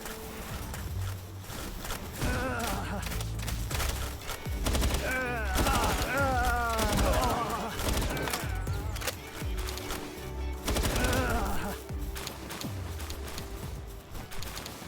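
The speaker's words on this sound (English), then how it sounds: "This guy does like airstrikes." Airstrike explosions and rapid gunfire in a base-building video game where a main base is being demolished, with dense overlapping bursts and booms running continuously, loud and close throughout.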